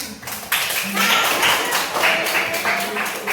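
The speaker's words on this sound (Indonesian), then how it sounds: "Oke, tepuk tangan dong" Classroom applause for a group activity, a burst of many hands clapping that starts abruptly and continues steadily, loud and close, with voices mixed in.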